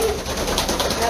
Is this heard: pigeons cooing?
yes